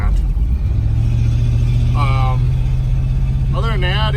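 A 1955 Packard 400 two-door hardtop drives along with a steady low engine drone and road rumble heard from inside the car, while someone talks over it.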